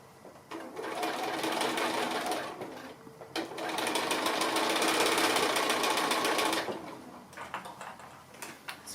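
Sewing machine stitching a fabric Christmas basket seam around the loop, running in two sustained bursts of steady rapid needle clatter with brief pauses between.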